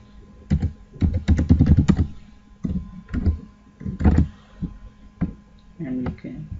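Code is typed on a computer keyboard in quick bursts of close, crisp key clicks separated by short pauses, with someone speaking over parts of it.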